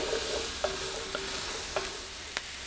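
Root vegetables fry in a Dutch oven for venison goulash, making a quiet even sizzle with a few light clicks of a spoon against the pot and no speech.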